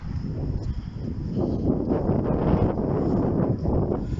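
Wind gusting outdoors on a walk, a steady broad rushing roar with some buffeting on the microphone that swells slightly toward the middle and stays continuous throughout, with no voices.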